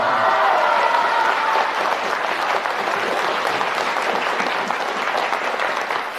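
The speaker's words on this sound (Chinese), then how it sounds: "谢谢大伙儿礼节性的掌声" A studio crowd at a Deyunshe crosstalk comedy show applauds, dense steady clapping that fills the room throughout, with a faint voice audible at the start.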